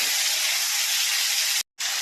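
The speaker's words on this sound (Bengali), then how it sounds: "মাছগুলো এবার ভালো করে ভাজা করে নেব।" Tiger prawns fry in hot oil with a loud, close, continuous hiss that cuts out briefly near the end and then resumes.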